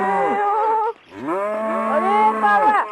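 A video game cow in Deer Simulator lets out two long, loud, bellowing moos close up, separated by a brief pause, with no talk over them.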